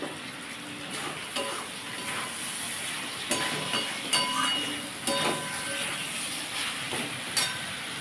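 Mutton pieces with spices frying and sizzling in a pan while being stirred, with steady broadband sizzle and occasional clinks of a spoon against the pan, close and continuous.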